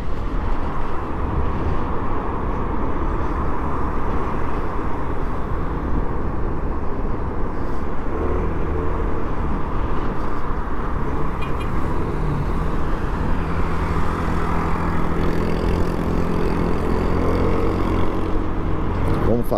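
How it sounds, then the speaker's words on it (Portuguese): Road traffic surrounds a group of cyclists, cars rumbling past close by in a continuous loud wash of engine and tyre noise with wind buffeting, no gaps between vehicles. "Hoje o trânsito tá diferente aqui."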